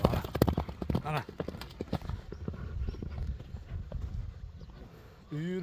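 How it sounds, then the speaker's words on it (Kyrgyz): A white horse walks on firm ground, its hooves clip-clopping in a loose rhythm close by while someone talks over them throughout. "Алдыңыздарда акбоз ат."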